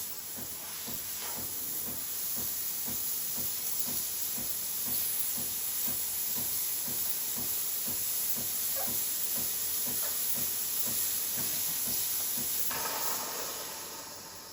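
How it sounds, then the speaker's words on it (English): Steam wand on a Breville Barista Pro espresso machine, blasting a strong, continuous hiss close by with a rapid pulsing rhythm underneath, then tapering off at the end, with no voices. "Then you have the steam. Nice and strong, very quick to turn on."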